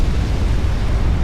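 Explosions in a naval battle video game, heavy rumbling blasts filling the whole clip with dense, loud, continuous low boom and crackle, no voices.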